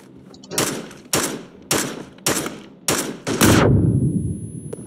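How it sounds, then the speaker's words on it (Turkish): Gunfire in the PUBG battle royale video game: six sharp, loud shots spaced about half a second apart, the last trailing into a rougher, sustained burst, with no talk over it. "Bak karşıdan sıkıyor."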